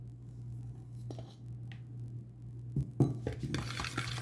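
A utensil stirs protein pancake batter with baking powder in a bowl, with soft scraping at first, then louder clinks and scrapes against the bowl over a steady low hum.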